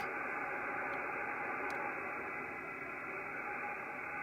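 Steady, dense radio static hisses from an FTdx5000MP receiver with digital noise reduction off, without a break, a continuous broadband rush with no voices and only a faint click or two.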